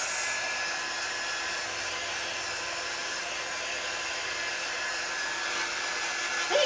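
Hair dryer blowing on a tile door hanger craft, a steady loud broadband whoosh running continuously and evenly throughout, close by, with no talk.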